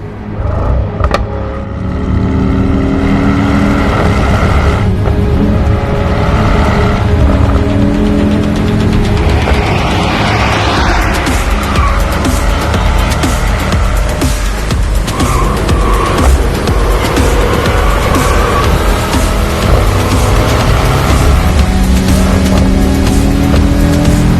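Mercedes AMG E63 cars driving past with loud engine roar and tire squeal, a continuous close rush of revving and skidding noise with no talk.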